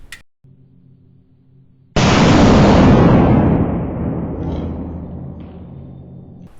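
A Coonan 357 Automatic pistol fires a single loud, close shot that booms and decays over several seconds, following a low hum, with the pistol failing to cycle.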